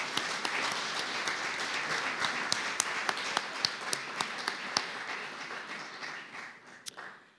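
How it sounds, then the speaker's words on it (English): Audience at a city State of the City event applauds panelists, a dense round of clapping with sharp individual claps standing out, fading and thinning toward the end. "Will you please join me in giving them a round of applause?"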